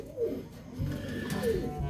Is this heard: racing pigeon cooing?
yes